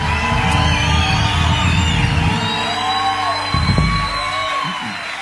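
Concert audience at a live Christian worship performance, a dense, sustained wash of crowd cheering and shouting with music ringing over it, loud and continuous throughout.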